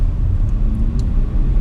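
Aston Martin V8 Vantage engine gives a steady low rumble while driving, loud and continuous from inside the car, with no talk over it.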